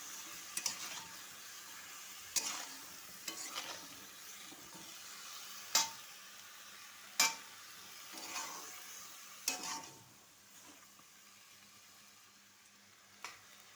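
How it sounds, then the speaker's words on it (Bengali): A spoon stirs a mixed vegetable curry with cucumber in a pan, bringing soft sizzling and several sharp scraping clinks against the metal, spaced a second or two apart, then quieter simmering. "এবার একটু নাড়াচাড়া করে ঢেকে দেবো।"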